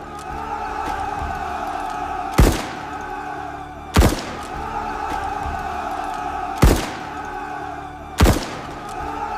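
Troops fire on a crowd in a walled garden, with four heavy, separated gunshot reports spaced a couple of seconds apart over a constant rumbling background.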